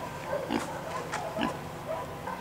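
A pig at the Pets Alive animal shelter in Middletown grunts in short, low bursts, several snorting oinks spaced unevenly at close range over a soft background hum.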